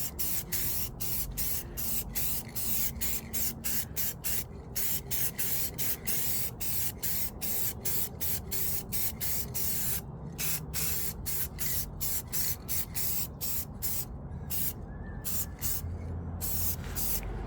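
Rapid bursts of aerosol spray hissing close by as metal flakes are sprayed onto an AC delete plate for a 1984 Buick Regal, short pulses in quick succession with brief gaps, no talking.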